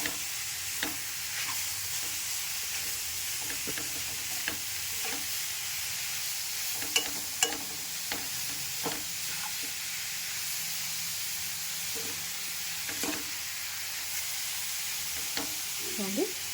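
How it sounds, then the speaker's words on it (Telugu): Radish pieces frying gently in a pan over a low flame give a soft, continuous sizzle, broken now and then by light scraping taps from stirring. "సిమ్లో పెట్టుకొని వేయించుతూ ఉండాలి."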